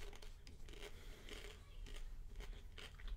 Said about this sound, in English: Listening to me munching away.